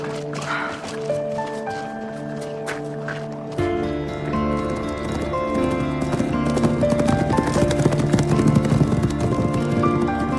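Hooves clip-clop steadily beneath swelling orchestral music, the rhythmic hoofbeats carrying on throughout without any talking.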